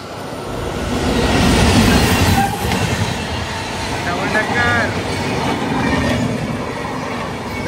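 A double-decker express train rushes past on the adjacent track, heard from aboard a moving passenger train: a loud, sustained rumble and clatter of wheels with brief squeals, close and continuous throughout.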